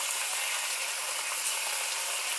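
Chicken fries in a hot pan with a steady, close hiss of sizzling that stays even throughout the short stretch.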